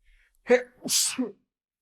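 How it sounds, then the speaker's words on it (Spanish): A single close sneeze: a short voiced intake, then a sharp, hissy burst and a brief voiced trailing sound, with silence around it. "estaba a punto de estornudar"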